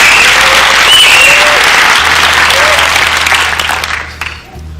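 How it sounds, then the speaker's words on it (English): Lecture audience clapping loudly and continuously, the applause fading out toward the end, with a voice speaking faintly over it. "Clap your hands right there."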